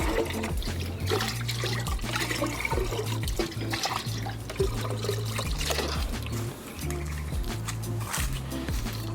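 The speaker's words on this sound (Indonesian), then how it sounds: "kita siram dengan air cucian beras" Rice wash water mixed with water pours and splashes steadily onto compost over a continuous run of liquid noise, with a low rhythmic hum underneath, no talking.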